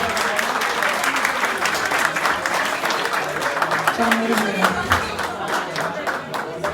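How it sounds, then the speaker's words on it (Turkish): Audience applause fills a live show, steady dense clapping throughout with a voice speaking briefly over it. "Bir alkış tufanı kopar mı acaba arkadaşlarına?"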